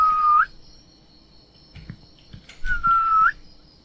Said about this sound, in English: Let me see if I can do a whistle sound.